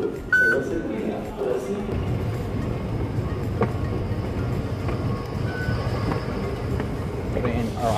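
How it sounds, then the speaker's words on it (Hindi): Train standing at a station, a steady low rumble with faint metallic clicks and a squeal, heard close and continuous throughout. "ट्रेन खड़ी है यहाँ"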